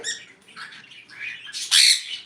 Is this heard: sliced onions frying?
no